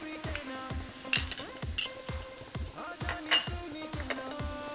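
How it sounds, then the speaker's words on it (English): Ginger and garlic paste is stirred in a cooking pot for ra ra gosht curry, a spoon clinking and scraping against the metal in a steady repeated rhythm over a soft sizzle. "let's mix that up. Let the ginger and garlic paste just cook off a little bit"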